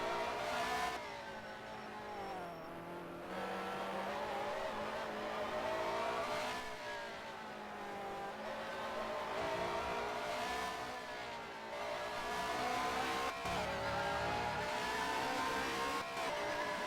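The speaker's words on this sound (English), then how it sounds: "So we are on board with one of the BMWs, as I mentioned, going into the last complex." Onboard engine of a 1996 BMW touring car racing in the BTCC at Silverstone, a continuous loud harmonic drone rising and falling with gear changes and throttle lifts through corners, with no voices.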